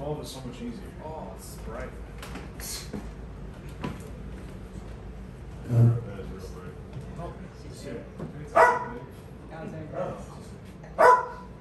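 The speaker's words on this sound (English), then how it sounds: "Sorry about my dogs." Dogs bark in a few short, loud bursts, well spaced, mixed in with ongoing conversation between people indoors.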